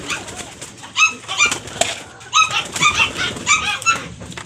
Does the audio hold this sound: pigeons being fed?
yes